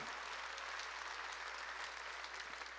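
A church congregation applauds during a Sunday sermon in a dense, even wash of clapping that holds steady for a few seconds and slightly fades at the end.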